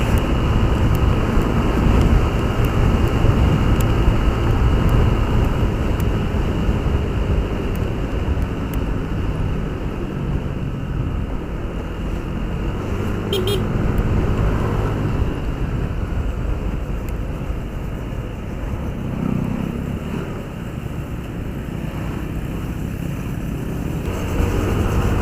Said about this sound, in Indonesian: Kita coba tarik gas lebih dalam, mumpung jalanannya